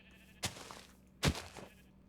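Two short bleats from a sheep in Minecraft as it takes hits, each one a sudden loud burst with a brief tail, roughly a second apart, over a faint background hum.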